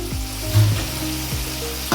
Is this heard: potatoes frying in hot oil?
yes